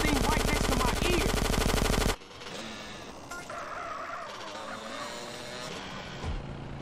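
Rapid machine-gun fire in GTA San Andreas rattles loudly and continuously for about two seconds, then stops abruptly, leaving quieter game ambience with traffic and scattered background sounds.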